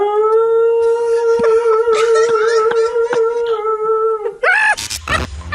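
A real dog howls in a long, sustained, wavering tone, played dry over the radio, then breaks off into a few short yelps and noisy bursts near the end.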